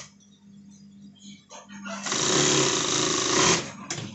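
A sewing machine stitches a side pocket onto black fabric for men's trousers, starting with short hesitant runs and then a steady, loud continuous whir for over a second before stopping.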